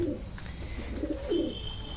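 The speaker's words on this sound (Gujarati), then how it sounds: "આપણે કબૂતરને અત્યારે તો બહાર કાઢ્યા છે જો બધા નાય છે" Pigeons coo softly in low, throaty murmurs, several overlapping calls close by against a steady outdoor hum.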